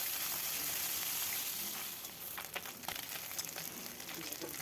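Chapila fish frying in oil over medium heat, a continuous loud sizzle that softens partway through, with occasional crackles and pops.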